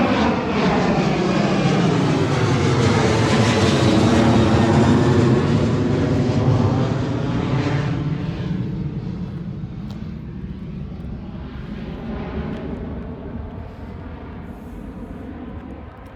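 A fixed-wing airplane roars past overhead, loud at first with a sweeping engine drone that slowly fades as it moves away, with no talk over it.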